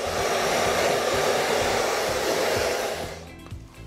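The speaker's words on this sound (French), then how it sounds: "je vais venir décoiffer l'ensemble de la matière au sèche-cheveux." A hair dryer blows hair loose with a loud, steady rushing hiss that holds for about three seconds and then cuts off abruptly, leaving a faint clatter.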